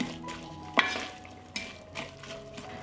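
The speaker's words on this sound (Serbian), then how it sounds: "i sve ću zajedno propržiti dok luk ne omekša." Soft sizzling of onion and chopped bacon frying in a pan, with occasional scraping stirs and a sharp utensil clink, quiet and close.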